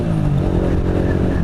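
A 125cc motorcycle ridden in the rain with the clutch slipped gives a steady, loud engine drone that stays close and even throughout, with no talking.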